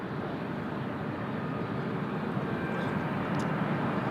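A TAP Portugal airliner at Lisbon Airport produces a steady, loud jet engine roar that holds evenly throughout, with no speech over it.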